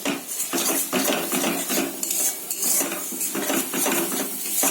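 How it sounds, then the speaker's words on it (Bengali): Spice paste with turmeric being stir-fried in a pan for a Bengali fish curry, with loud, rapid metal spoon scrapes and clanks against the pan over a faint sizzle, close and continuous throughout. "এই ছোটো চামচের 1 চামচ হলুদ দিয়ে একটু কষিয়ে নেবো"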